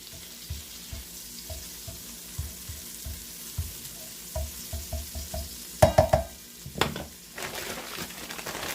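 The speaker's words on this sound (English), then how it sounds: "I'm going to get some garlic going. Got some minced garlic in there." Minced garlic fries in a pan with a soft sizzle under a series of sharp taps and scrapes from a spoon, several clustered knocks near the end, close by and without speech.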